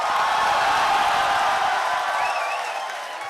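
Audience applause welcoming the poet Tehzeeb Hafi onto the stage at a university poetry gathering in Lahore, a dense, steady wash of clapping that holds loud throughout and begins to fade slightly near the end.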